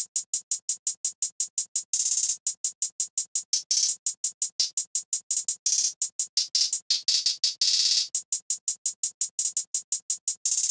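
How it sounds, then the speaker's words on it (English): Programmed hi-hat pattern from a drum kit in a dark trap beat, crisp rapid ticks in steady runs broken by brief open or rolled bursts, loud and alone with no talk. "this is how the hi-hat pattern looks like, and it sounds like this"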